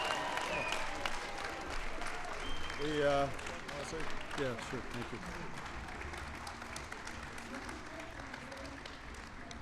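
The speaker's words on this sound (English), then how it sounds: "Give the New York Giants a big round of applause" Applause for the New York Giants football team during a White House ceremony, a steady crowd clapping that runs throughout, with people talking briefly over it.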